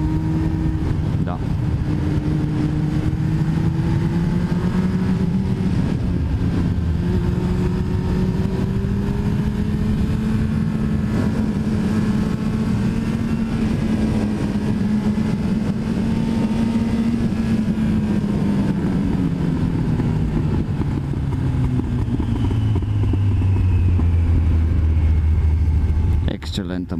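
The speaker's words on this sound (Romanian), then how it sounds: "Excelentă motocicleta. Doamne, cum poate să tragă." A Yamaha XJR 1300 motorcycle engine on a ride, a loud continuous roar that holds steady, then drops in pitch near the end as the bike slows, with wind noise and a rider talking over it.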